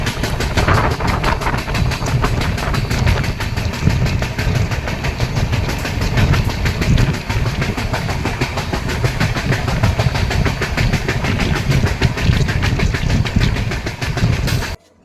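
A passenger train runs along the rails with a steady, loud rumble and a rhythmic clickety-clack that continues throughout, heard from inside the carriage with no talking.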